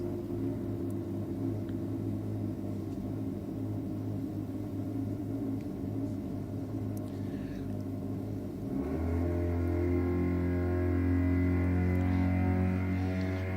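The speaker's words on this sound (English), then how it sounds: "You could definitely hear the rotary. Winds it up." A rotary-engined drag car winds up at a Sydney drag strip, a low rumbling drone that swells into a louder, higher-pitched sustained rising tone partway through, heard from a distance.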